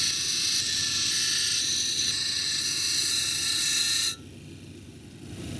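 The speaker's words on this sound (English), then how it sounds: "Now I'm gonna grind this edge here all the way around, working my way to the center." An Owyhee jasper cabochon is ground around its edge on a grinding wheel, giving a steady high whirring grind that cuts off near the end, leaving the motor running alone.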